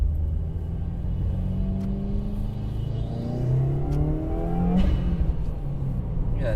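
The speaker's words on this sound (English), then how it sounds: "Got a dump truck in front of me." A dump truck on the road gives off a steady, low engine rumble, with a gear whine that rises and falls as it drives along. No one speaks.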